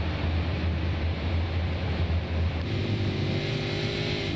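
Super late model race car at Five Flags with the driver dumping the clutch, a loud continuous engine drone whose low pitch steps and shifts partway through, heard up close without talk.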